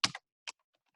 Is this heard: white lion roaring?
no